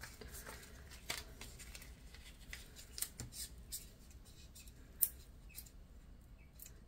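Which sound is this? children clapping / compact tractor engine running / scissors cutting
scissors cutting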